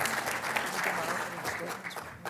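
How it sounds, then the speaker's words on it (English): Audience applause for a panel at a formal anniversary celebration, a steady wash of clapping from a crowd that holds through the short stretch and eases slightly at the end. "Give them one more round of applause."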